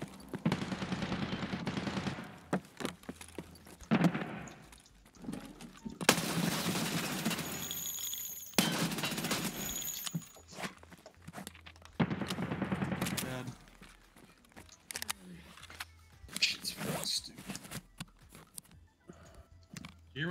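Gunfire from the video game Escape From Tarkov during a raid on the Labs map, with several loud bursts of shots and rapid fire breaking out between quieter stretches over about twenty seconds, mixed with in-game sounds.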